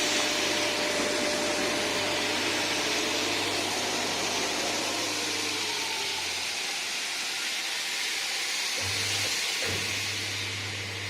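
A WTS HSBS 2215 hand stroke belt sander working wood makes a loud, steady broadband roar with a low motor hum that drops out midway, then returns briefly near the end.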